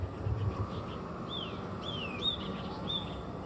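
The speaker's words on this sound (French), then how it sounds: "T'entends ce petit bruit d'oiseau qu'on n'a pas en France" A small bird in Uluwatu, Bali gives several short, faint rising chirps, spaced about half a second apart, over a steady outdoor background hum.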